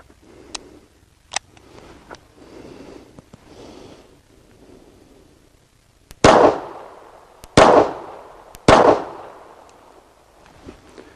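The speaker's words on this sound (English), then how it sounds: "Let's empty the rest of this magazine out." Three loud, close pistol shots from a Bersa Thunder 380 ring out about a second apart, each with a sharp crack and a decaying tail, after quiet rustling and breathing.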